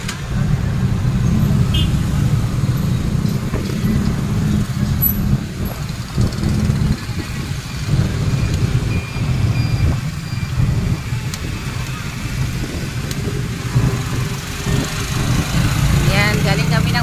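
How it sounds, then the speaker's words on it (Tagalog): Street traffic in Gingoog City: a steady, loud rumble of car and truck engines idling and moving close by, with occasional brake hiss and voices mixed into the din. "Traffic."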